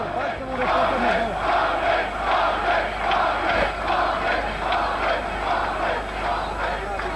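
A crowd cheers and applauds steadily for a patriarch speaking at Terazije, with rhythmic clapping and shouts sustained throughout at a loud, even level.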